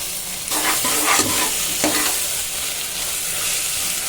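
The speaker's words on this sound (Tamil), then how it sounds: "இது எல்லாத்தையும் நல்லா நம்ம கிண்டி விட்டுக்கலாம்." A spoon scrapes and stirs onions and ginger-garlic paste sizzling in a hot pan, with a steady frying hiss throughout and no talking.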